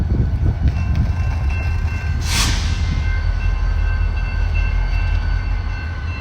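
A train rumbles past Amtrak's Ardmore station in Oklahoma, loud and close, with a continuous heavy rolling roar of rail cars and a brief bright burst partway through.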